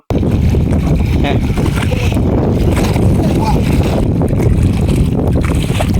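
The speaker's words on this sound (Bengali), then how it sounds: "জলের যে একটা ছলাচ্ছলার শব্দ আছে" Water slapping and splashing against a small boat on a wide marshy lake, a steady broadband wash with wind buffeting the microphone and faint voices in the background throughout.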